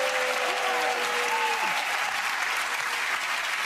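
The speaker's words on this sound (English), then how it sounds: "give that round of applause to Kerry and Nish" A studio audience at a comedy panel show claps steadily, a dense, even wash of applause that holds at full strength from start to finish, with faint tonal music lines underneath near the opening.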